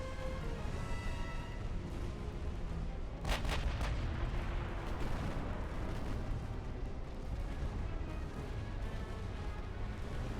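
Battleship main guns firing in the Ultimate Admiral: Dreadnoughts naval game: a dense, continuous roar of booming salvos and rumbling explosions fills the whole stretch, with a sharper burst of blasts in the middle.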